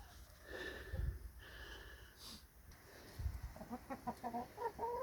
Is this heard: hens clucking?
yes